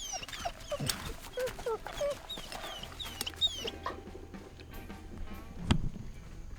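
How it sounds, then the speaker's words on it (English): A hen pheasant flushes from cover in the field, a brief rush of wingbeats amid chirping birds and steady outdoor background noise, with a short louder burst near the end. "You hear that pheasant get up?"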